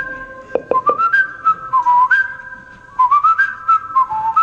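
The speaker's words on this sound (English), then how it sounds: "Can you play the whistle a few times so people know what they're going to whistle?" A whistled melody plays from a track, a clear, loud, wavering tune with short sharp notes at the start, then sustained gliding phrases, with no voices.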